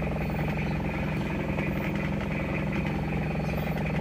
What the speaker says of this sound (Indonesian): Untuk suara mesinnya ada kemeleteknya dikit, sebenarnya kurang halus.